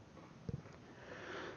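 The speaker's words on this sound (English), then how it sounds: "Excuse the cough." A single short, muffled cough, fairly close, followed by quiet room noise with no speech.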